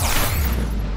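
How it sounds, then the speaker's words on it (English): A grenade going off in Mass Effect 3, one loud, close, deep boom that fills the whole second and slowly fades, with no talk over it. "Fucking grenade!"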